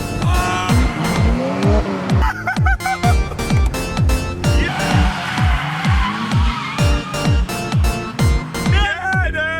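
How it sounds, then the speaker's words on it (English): A kei car drifts through a corner in Japan, its tires squealing in repeated sharp bursts over a loud, continuous revving engine, close and intense throughout. "then big drift at the end, dude"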